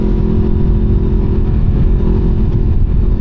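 A CFMOTO 700CL-X Sport motorcycle engine rumbles loudly and steadily close by, with deep low-end throb and slight revving swells.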